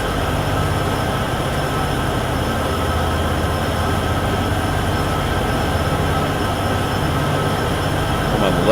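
A freight train of refrigerated cars with a single engine at the rear rumbles along in Train Sim World 6 on the Cheyenne–Laramie route, a steady loud rolling roar with low droning tones and faint high hum, no talking.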